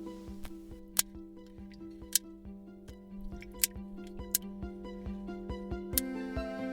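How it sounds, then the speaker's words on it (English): Rapid, extremely short clicks from rig sharks, each a sharp broadband tick under a second long, recur irregularly over a steady low tonal hum with no talking. "They caught the sharks making extremely short clicking noises, like shorter than a human blink short"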